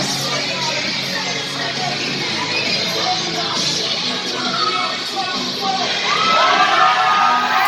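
A wrestling crowd at an XP Wrestling event cheers and shouts for Hunter Young, the self-styled Wrestling Saint, a dense, steady roar of many voices with whoops and children's yells that swells louder toward the end.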